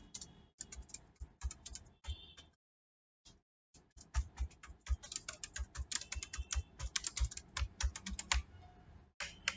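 Address being typed on a computer keyboard: a steady run of close, crisp key clicks with a brief pause partway, then faster bursts of keystrokes, alone without talk.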